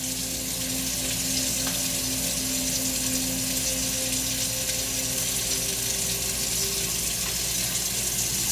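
Running water rinses dish soap off a tinted mask lens, a steady close hiss and splash like a tap flowing into a sink, continuous with no talk.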